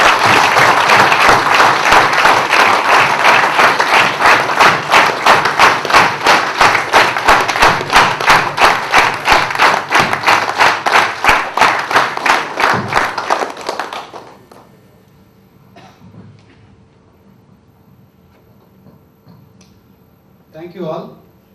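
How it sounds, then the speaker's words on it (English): A hall audience at a corporate awards day claps loudly and steadily for a mentor for about thirteen seconds. The applause then fades into quiet room noise with a few scattered sounds. "And a big round of applause for him."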